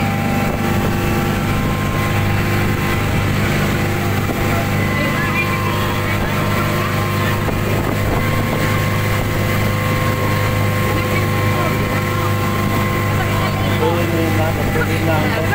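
A motorboat engine drones loudly and steadily throughout, a constant mechanical hum with wind buffeting the microphone and no pauses.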